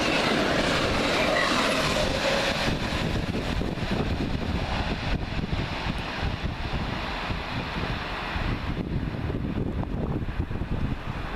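A convoy of locomotives, including Class 43 and 139 units, rolls past on the railway near Margam and Eastleigh, a loud, continuous rumble with clattering wheels and rushing air sustained throughout, fading slightly toward the end.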